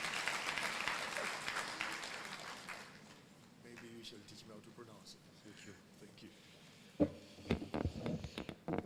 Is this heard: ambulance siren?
no